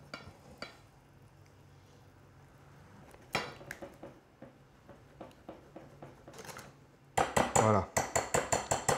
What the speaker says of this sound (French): On va rajouter l'huile et le cacao dans notre mélange de chocolat et beurre fondu. Et là, je vais mélanger.